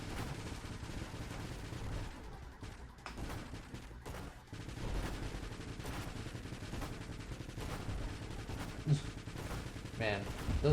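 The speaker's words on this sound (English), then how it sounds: "Man, those missiles are coming hot and heavy." Rapid bursts of incoming missiles and weapon fire in the space shooter Nova Drift crackle in dense, repeated volleys, loud and nearly continuous with sharp impacts scattered throughout.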